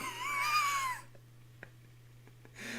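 Sprigatito, a grass cat Pokémon, gives one short rising and falling meow, clear and fairly near, then a quiet pause with faint clicks before another brief sound starts.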